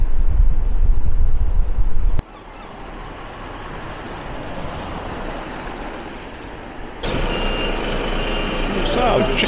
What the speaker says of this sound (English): they got a large lorry and they're trying to reverse it in